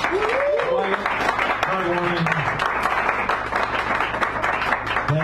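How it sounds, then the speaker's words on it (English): Audience applause at a poetry hour in the Sacred Grounds Cafe in San Francisco, a busy patter of clapping running throughout while voices talk over it. "Give one more little round of applause,"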